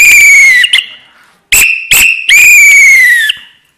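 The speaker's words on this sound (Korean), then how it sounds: "저는 이 호루라기를 얘기하는데 호루라기만 준비했어요" A shrill whistle is blown three times, loud and close: a long blast, then a short sharp one, then another long blast, with clear silences between.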